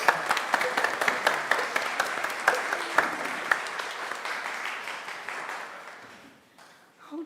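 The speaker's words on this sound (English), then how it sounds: "Clap if you believe." Theater audience applause during a stage play, a full crowd clapping loudly with sharp individual claps standing out, sustained for several seconds before gradually dying away, followed by a faint sound at the very end.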